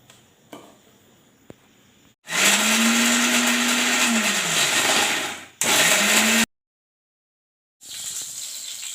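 An electric mixer grinds green chillies and garlic with salt into a coarse chutney paste for a Bombil chutney. Two loud whirring bursts, the first long and the second short, are separated by a pause, then a third burst starts after silence.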